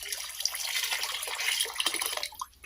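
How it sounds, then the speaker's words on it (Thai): Liquid fertilizer poured into ten liters of plain water, a close, steady splashing and trickling pour with bubbly gurgles, tapering off in the final moment. "ให้เราเตรียมน้ำเปล่า มาสิบลิตรนะครับ แล้วให้เราใส่ปุ๋ยน้ำของเราลงไปเลยนะครับ"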